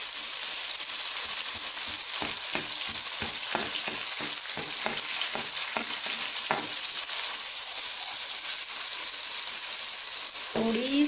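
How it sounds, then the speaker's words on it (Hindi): Oil spatters and sizzles steadily as a tomato fries in a pan for potato rice, with a run of sharp crackling pops in the first half over a constant frying hiss. "ये आप देख रहे हैं ऑयल की छींटे पड़ रही हैं।"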